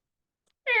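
A cat gives a single short, fairly clear meow that starts abruptly after near silence and cuts off at the end.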